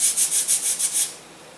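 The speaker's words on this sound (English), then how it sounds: "I'm going to sand off a little bit of my aileron here at the root." Seven quick back-and-forth sanding strokes rasp in an even rhythm close by on the root of a model airplane aileron, then stop, leaving near silence.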